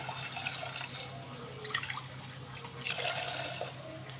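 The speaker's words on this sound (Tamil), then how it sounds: "மூணு கப் தண்ணி இதில் சேர்த்துக்கோங்க" Three cups of water splash and trickle into a pressure cooker holding rice and lentils for sweet pongal. The pouring is close and fairly soft, with uneven splashes and drips over a low background hum, and no talking.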